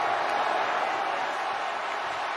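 A stadium crowd roars steadily at an Alabama vs Texas A&M college football game, a dense, continuous wash of cheering and noise with no clear breaks.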